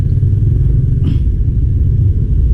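A motorcycle rumbles over a rough, potholed road, a heavy, steady low-end drone with a brief rattling knock midway, close and continuous.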